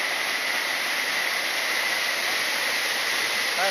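Mountain stream rushing through a tropical rainforest at Wuzhishan, coming down from the peaks; a steady, dense wash of flowing water fills the whole clip without a break, close and fairly loud.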